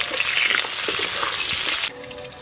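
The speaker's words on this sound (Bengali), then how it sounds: "আজকে আম দিয়ে শোল মাছের এই রান্নার জন্য আমি আলু নিয়েছি আলুগুলো ভালো করে ভেজে নেব" Potato pieces fry in hot oil for a snakehead fish curry, a loud dense sizzle that drops off sharply near the end, with no talking.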